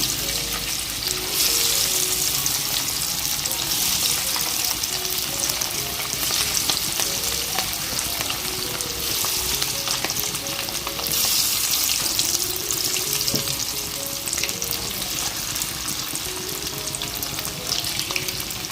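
Chicken 65 pieces fry in hot oil with a loud, continuous close sizzle and occasional stirring scrapes. No one speaks.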